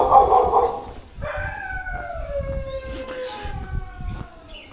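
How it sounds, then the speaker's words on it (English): Guard dogs at a house in Hua Hin let out a loud burst of barking, then a drawn-out wavering howl with overlapping yips carries on for several seconds, fairly close by. "At least they're good guard dogs, I suppose."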